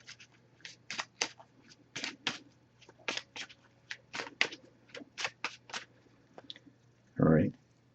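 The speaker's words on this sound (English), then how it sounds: "I'm going to give this a few shuffles." An oracle card deck is shuffled in a dozen or so quick, crisp riffling bursts at close range, spaced irregularly, ending with a short louder thump as the cards settle.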